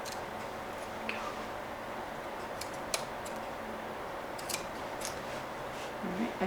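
Scissors snip through slipcover fabric in a few quick, light cuts scattered over several seconds, close by and fairly quiet above a steady room hum.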